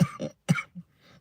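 A few short, close coughs and throat-clearing bursts from a person with a cold, in quick succession, fairly quiet, with no other sound around them.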